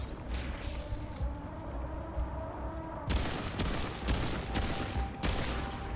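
Bursts of automatic gunfire in the video game Remnant 2, the first half a dense rattling fusillade under a low hum, then several loud, sharp volleys spaced about a second apart.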